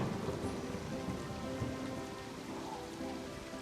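Steady rain falls in the farming video game Harvest Moon: Animal Parade, a soft continuous hiss with no talk over it.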